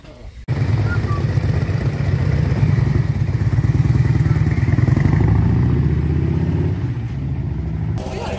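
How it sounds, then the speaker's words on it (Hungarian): Motorcycle engines rev and rumble together at an international women's motorcycle day gathering, a loud sustained throaty roar that begins suddenly after a brief quiet moment and holds steady, with some voices mixed in. "megnyitom az első motorröffentést"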